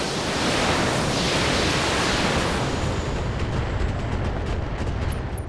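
Mech weapons firing at an enemy in the BattleTech video game, a dense, continuous roaring barrage of heavy blasts and rumbling explosions filling the whole stretch at steady high loudness.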